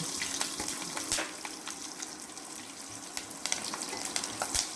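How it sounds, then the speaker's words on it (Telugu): Cumin seeds and green chilies fry in a pan for pesarapappu pongal with a soft, steady sizzle. A few light stirring scrapes come through, fairly faint and close. "ఇప్పుడు జీలకర్రను వేయించిన తర్వాత కొంచెం పచ్చిమిరపకాయలని వేసుకోవాలి."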